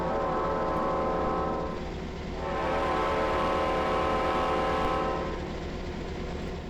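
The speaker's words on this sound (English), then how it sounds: "Horn." A long, loud, steady diesel locomotive horn from an E8A in Train Simulator Classic, a rich chord that holds for the full length with a slight dip in the middle.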